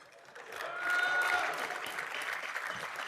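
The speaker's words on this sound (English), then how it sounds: "Please give these scholastic excellence members of our fraternity your complete round of applause" Applause from the audience at a fraternity convocation, a crowd clapping steadily that swells quickly and then holds for a few seconds.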